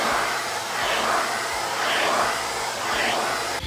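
Dog grooming vacuum with brush and crevice tools running continuously, a steady whooshing motor hum that stays close and fairly loud with slight swells in pitch.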